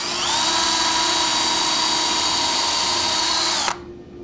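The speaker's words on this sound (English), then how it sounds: "We'll go ahead and insert the drill and pre-drill another hole." A power drill pre-drills a screw hole for a Norman Shutters bypass track, one loud, close, steady high whine that runs for several seconds and then cuts off abruptly.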